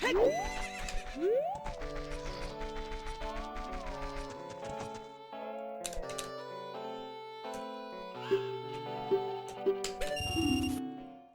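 Horse neighing in the video game Ocarina of Time, a loud whinny rising and falling near the start, laid over game music with bright sustained tones and a few sharp chimes, no talking.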